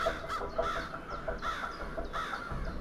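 A flock of crows gathered at night among campus lampposts caws repeatedly in overlapping calls, some near and some farther off, steady throughout.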